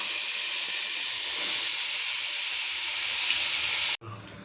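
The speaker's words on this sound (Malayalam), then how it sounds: "ഇപ്പോൾ തക്കാളി വതങ്ങിക്കൊണ്ടിരിക്കുകയാണ്" Tomatoes sautéing in hot oil in a pan give a steady, bright sizzle and hiss, close and continuous for about four seconds before cutting off abruptly.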